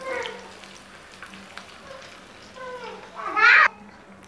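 Taro leaf bhaji fry in hot oil with a soft continuous sizzle, and a brief louder burst of spattering near the end, while someone talks and children's voices are heard in the background.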